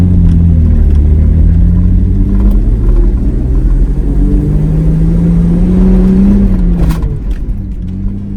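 Car revving hard on a run up beach sand from the waterline at Rainbow Beach, with tyres at full pressure; a loud, close engine drone rises and falls in pitch across several gear-like sweeps with no talking.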